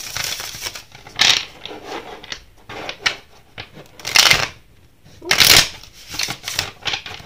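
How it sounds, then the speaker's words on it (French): Tarot cards being shuffled by hand in bursts of crisp riffling and flicking, close and fairly quiet, with soft rustling between the louder passes. "Allez, on va battre les cartes."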